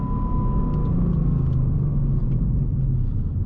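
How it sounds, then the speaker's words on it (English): Deep, steady rumble of a 2019 Ford Mustang Bullitt's 5-liter V8 cruising with a six-speed manual, loud and close with a faint whine over the low drone. "I just love the sound of that 5 liter."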